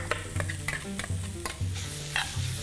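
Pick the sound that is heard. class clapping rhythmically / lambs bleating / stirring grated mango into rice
stirring grated mango into rice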